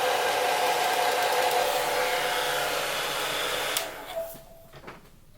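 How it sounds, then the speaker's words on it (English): A hair dryer blows with a steady loud whoosh and whine, then switches off, leaving a few faint clicks and handling sounds. "I'm going to take the hair dryer"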